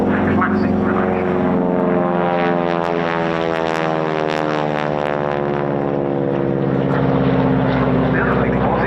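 A propeller warplane roars past at the RAF Cosford Air Show, its loud, steady engine drone sweeping in pitch as it passes overhead, with no other sound competing.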